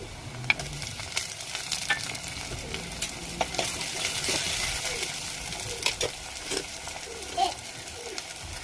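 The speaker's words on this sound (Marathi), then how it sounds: "कांदा तेलामध्ये व्यवस्थित फ्राय झाला की त्यामध्ये टोमॅटो घालायचे आहेत।" Onion frying in oil with whole spices and black pepper crackles and sizzles steadily while a spoon stirs and scrapes the pan with repeated knocks, and a voice talks faintly underneath.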